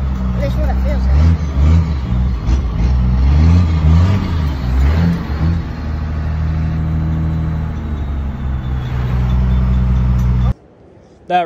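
A large truck engine rumbles and revs loudly nearby, its low throb rising and falling, then cuts out abruptly near the end.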